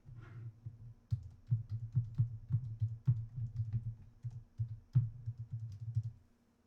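Typing on a computer keyboard: a fast, uneven run of soft clicks and key taps, close by with a faint low hum underneath.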